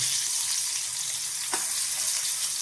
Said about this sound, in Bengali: আমি একটু করলাটা একটু উল্টে দিচ্ছি, আর একটু ভাজা হবে